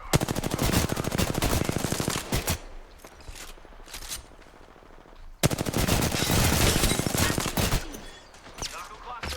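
Rapid automatic gunfire in the Apex Legends video game, loud bursts of sustained rattling shots, a pause with quieter scattered sounds, then another long volley of dense fire close up.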